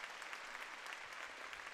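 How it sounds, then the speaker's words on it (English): Audience applause at a Dragongate professional wrestling event, steady and dense clapping from a crowd filling the short stretch without letup. "Give a round of applause for Mr."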